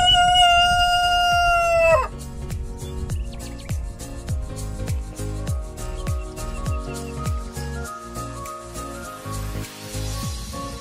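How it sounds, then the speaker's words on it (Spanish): A rooster crows loudly and close on a ranch in Sinaloa, Mexico, a single long call lasting about two seconds, followed by a busy run of rhythmic, percussive sounds with no talking. "los gallitos, las gallinas ahí"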